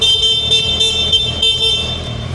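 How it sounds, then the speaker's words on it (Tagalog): The shrill, high electric horn of a 2024 Triumph Tiger Sport 660 motorcycle blares steadily and loudly up close for a couple of seconds without a break. "Basic lang yung horn."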